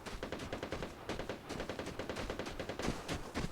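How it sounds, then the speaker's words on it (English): Rapid gunfire rings out in the video game Vigor near a crashed plane, a sustained burst of automatic shots in a quick, steady rhythm, sounding at a middle distance and fairly even in loudness throughout. "But you hear those gunshots."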